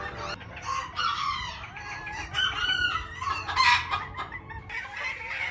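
Modern game bantam chickens, a show breed, cluck and crow close by in loud, overlapping bursts that rise and fall for several seconds, with no one talking.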